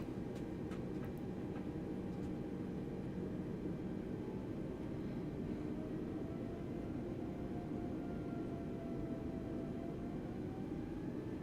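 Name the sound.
A320neo engines throttling up in flight simulator game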